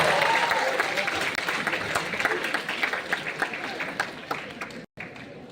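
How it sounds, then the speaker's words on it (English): An audience at a school academics day talk session applauds warmly, many hands clapping densely at first and gradually thinning out before a brief cut near the end. "Guys, round of applause."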